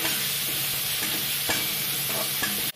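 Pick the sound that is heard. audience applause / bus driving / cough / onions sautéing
onions sautéing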